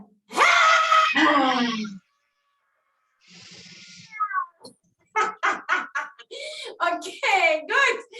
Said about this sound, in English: Breathing deeply in and putting the tongue out.